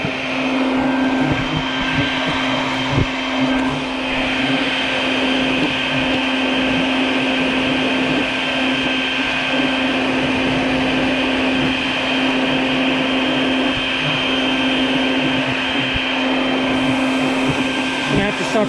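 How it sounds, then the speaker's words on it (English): A vacuum cleaner with a hose runs steadily and close by at a hornet nest by a front door, a constant droning whine with a strong hum that holds throughout. "I want to set up the vacuum hose."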